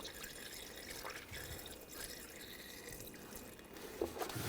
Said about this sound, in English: Use the funnel and put the appropriate type of coolant in.